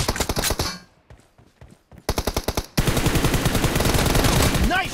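Automatic gunfire crackles through a team deathmatch round of a mobile shooter game: loud rapid bursts, a brief quieter lull of scattered shots, then a dense, sustained stream of fire to the end.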